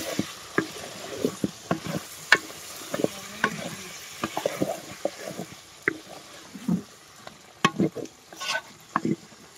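Pointed gourd sautéing in a hot pan with spices, soft continuous sizzle broken by frequent stirring scrapes and clinks of a spoon, close and moderately quiet, no talking.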